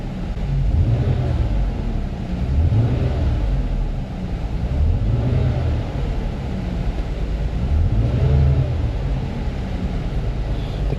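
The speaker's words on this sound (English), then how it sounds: "Let's hit the gas and see what this variance one does." A rough-running G6 car engine revs in repeated swells, rising and falling roughly every two seconds, loud and close with an uneven, unsteady drone and no talking.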